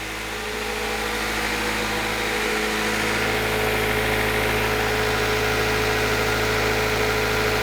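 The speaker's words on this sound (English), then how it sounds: "that sounds like a smooth, happy engine to me" A 2000 Acura Integra engine idles steadily and smoothly with a low, even hum that holds constant throughout, and no one speaks.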